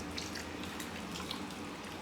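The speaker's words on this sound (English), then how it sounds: "Now we're going to add 2 cups of hot water." Hot, not boiling, water poured into a powdered milk and cornstarch slurry for pantry scalloped potatoes, a steady splashing pour running continuously at close range with no talk.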